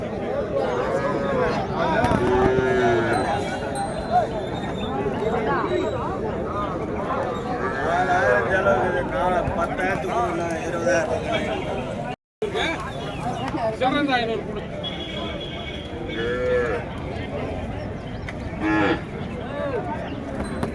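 Calves mooing repeatedly at a busy cattle market in Madrapalli, Tamil Nadu, with loud, close lowing calls carried over steady crowd chatter and people talking throughout.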